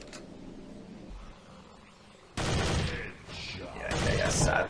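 A quieter stretch gives way to a sudden, loud, sustained fusillade of gunfire while shooting in the video game Dead Target, surging again near the end, with a voice faintly mixed in.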